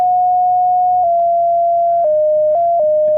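A pure sine-wave tone from an oscillator in a modular synth rig hums steadily, stepping down slightly in pitch a few times with faint clicks at each change, alone and clear.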